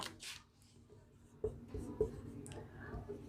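Fractions are written on a board in faint, close scratchy strokes, with a few short taps and scrapes over about three seconds.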